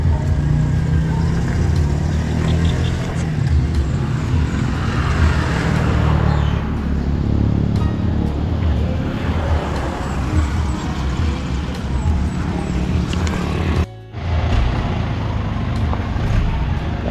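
Delivery truck hauling sand, hollow blocks, cement and steel rebar rumbles in with a steady low engine drone and road noise, moderately loud and continuous, with a brief dropout near the end.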